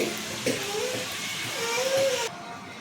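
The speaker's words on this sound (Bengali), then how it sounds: "এবার দিয়ে দেব সামান্য পরিমাণে জল জলটা খুব বেশি দেব না খুব অল্প পরিমাণে জলটা এখানে দেব" Water splashes into a pan of freshly fried lote fish for a spicy kosha, a brief pouring rush with faint tones and background noise throughout.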